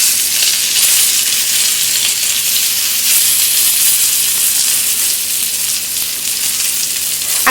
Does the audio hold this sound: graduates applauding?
no